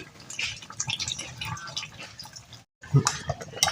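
Broth is poured into a pan of fish-head and potato curry, giving close, uneven splashing and dripping liquid sounds with a brief silent gap near the end.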